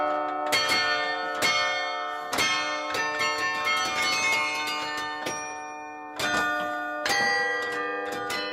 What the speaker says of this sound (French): Chaque semaine, le carillonneur de la ville joue.